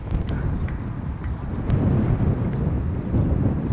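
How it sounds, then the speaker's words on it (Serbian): Strong gusting wind buffeting a microphone outdoors, a loud low rumbling roar that surges and stays heavy throughout, with a few sharp knocks early on and no speech. "O, bog te, koji vetar, ovo je nenormalno."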